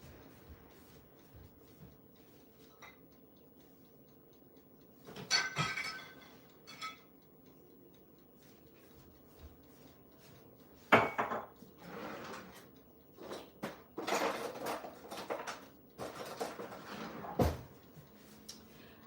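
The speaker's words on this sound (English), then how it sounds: "I'm gonna oil the pan so that way it won't be sticking" Pots and pans clink and clatter sporadically in a kitchen while a pan is oiled, with faint, close knocks and scrapes between quieter stretches.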